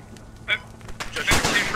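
Gunfire from the military shooter game Squad: a few sharp shots, one brief crack followed by a louder burst of reports close by, with people talking over the action.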